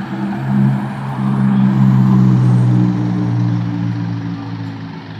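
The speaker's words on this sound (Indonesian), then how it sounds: "masuk lagi langsiran dari bis transport" A tourist bus pulling in on the Padang–Pariaman main road, a loud close low engine rumble that swells and holds then eases slightly, with no talk.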